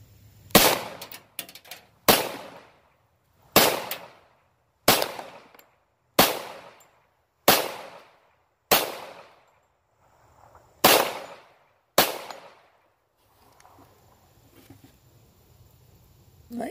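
About ten sharp, loud gunshots are fired one at a time into a bullet trap at steady intervals of roughly one to two seconds, each with a short echoing decay. Quiet background noise follows.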